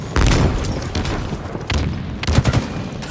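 A booming blast from a frag grenade in Halo Infinite rolls over ongoing gunfire, with several heavy thuds and bursts spread across the moment, loud and near.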